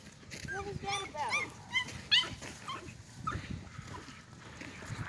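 Young kennel puppies yip, bark and whimper in short high bursts, fairly close and scattered through the clip, while people talk over them outdoors.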